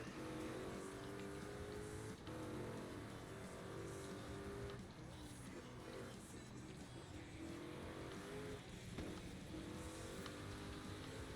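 A car driven in Forza Horizon 5 roars steadily with a continuous engine drone and some tire noise throughout, loud and close, with faint talk now and then.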